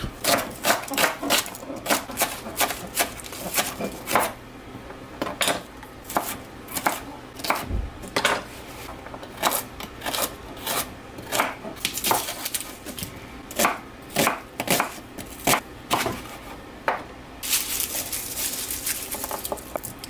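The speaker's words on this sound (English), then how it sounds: "Run through and slice all my vegetables up." Knife chopping vegetables on a cutting board for braised beef short ribs, a fast run of sharp, close, regular knocks that pauses briefly and resumes, with no talk.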